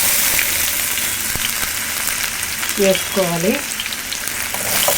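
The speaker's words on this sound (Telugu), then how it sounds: "కొన్ని పల్లీలు వేసుకోవాలి. ఫ్రై అవ్వాలండి." Peanuts and thin-sliced potato fry in a hot pan with a steady, close sizzle throughout, and a brief whistling tone rises midway while a voice speaks once over the cooking.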